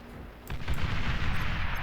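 Energy converters blowing up in the Beyond All Reason strategy game: a sharp blast followed by a dense, sustained rumble of crackling explosions and gunfire-like bursts, loud and continuous.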